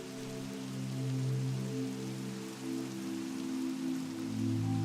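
Rainfall in the video game Minecraft, a constant hissing patter of drops that carries on evenly for several seconds with no talk over it.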